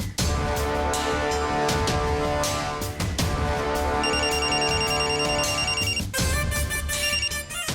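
A telephone rings with a loud, repeating electronic melody of bright chiming tones, cycling through its pattern several times with no voices over it, in a scene from a Tamil TV serial.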